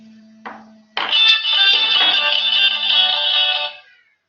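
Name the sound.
mobile phone ringing with incoming call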